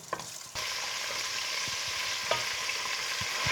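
Chicken sizzling steadily in a hot pan for biryani, with a sudden rise in frying noise partway through and soft scraping taps of stirring scattered throughout, close and continuous with no talking.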